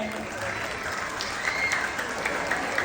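Audience applause at a Bb. 123 2026 national costume pageant segment: steady, dense clapping from a crowd, fairly even throughout with slight swells, heard at a moderate distance.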